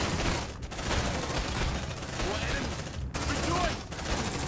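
Rapid gunfire rattles in a steady, dense stream during a firefight in the video game Aliens: Dark Descent, with a few brief breaks and faint voices beneath.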